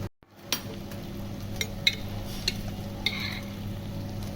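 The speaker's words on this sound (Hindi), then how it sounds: "दही 2 चम्मच दही डाल रहा हूँ। आँच मैंने फुल की हुई है" Two spoonfuls of yogurt go into an eggplant and potato curry cooking over full flame, giving a steady low sizzle with scattered spoon clinks and scraping against the pan, close and without talk.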